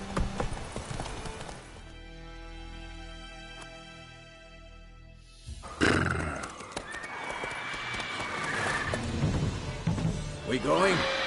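Roach the horse in The Witcher 3 gives a clear neigh, then trots with hoofbeats beneath a loud, busy game soundscape of music and effects.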